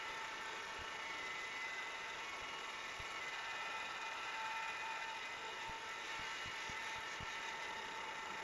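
A wood lathe turning a metal and resin blank at 2300 rpm gives a steady, even mechanical hum with a high whine throughout, with a few faint knocks in the background.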